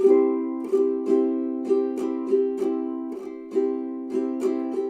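Ukulele chords strummed in a steady rhythm, each stroke ringing out clearly and close up, with no voices.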